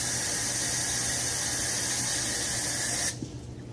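Running water rinsing rice for homemade faux makgeolli, a steady close hiss of water filling and splashing in a vessel that cuts off abruptly near the end.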